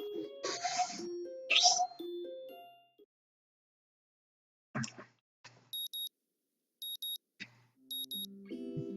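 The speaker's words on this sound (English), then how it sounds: "The sound of an alarm pulls me out of a fitful slumber" Inside the visual novel game Katawa Shoujo, an alarm clock gives short clusters of high electronic beeps at regular intervals, coming after some game music and chimes, with no voices.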